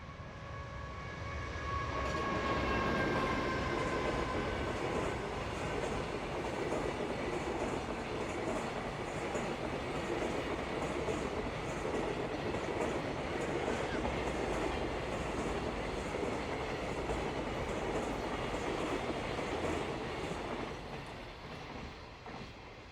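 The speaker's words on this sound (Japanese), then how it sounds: "1058列車宇都宮貨物ターミナル行きです。" A freight train bound for the Utsunomiya freight terminal passes on the Kagoshima Main Line, a loud, close, continuous rumble of wheels and cars that holds steady for about twenty seconds before easing off, with no voices.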